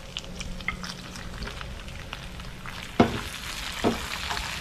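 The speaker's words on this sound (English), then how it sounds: "So I put tomato in it and I'm mixing it well." Tomatoes are stirred into a potato curry frying in a pan, a soft steady sizzle broken by light scraping strokes and two louder clanks of the utensil against the pan, with no speech.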